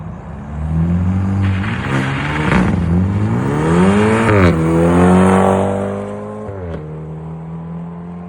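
A BMW 328i M-Sport with a muffler-delete exhaust revs hard, engine pitch climbing and falling through loud, raspy pulls close by before dropping back toward idle near the end.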